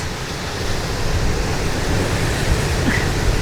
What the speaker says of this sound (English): The camera shakes so much because of this wind.